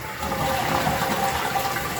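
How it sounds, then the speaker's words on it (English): Water rushes steadily through a newly installed toilet set on a flange over tile, a continuous close-up gushing flush-and-fill sound with no talking. "we're going to run some water and see if we got any leaks"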